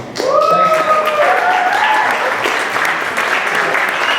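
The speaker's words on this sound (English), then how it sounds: "I think they deserve another big round of applause" Audience applause fills a presentation room at a Startup Weekend event, steady clapping from a crowd that stays loud and sustained throughout, with a few voices and cheers mixed in.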